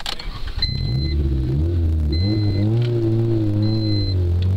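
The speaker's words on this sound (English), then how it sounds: "so we're driving up the hill." A car engine revs and strains while driving up a steep hill, its pitch rising and falling in loud, sustained surges as the driver presses on, close and continuous with no talk.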